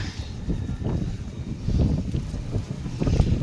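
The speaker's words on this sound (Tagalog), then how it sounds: "Ang lakas ng hangin, no?" Strong wind buffets and roars in a steady low rush, gusting a little louder toward the end, with no talking.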